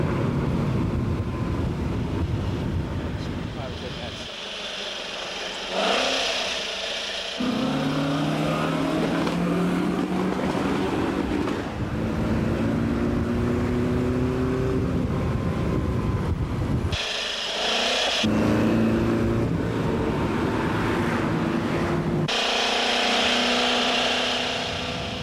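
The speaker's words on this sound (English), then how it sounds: "Fortunately, oncoming motorists can hear Stirling coming" A Mercedes 300SLR 722 race car driven by Stirling Moss roars along an open road, its engine loud and close with long rising gear pulls, abrupt cuts between shifts and wind buffeting the microphone.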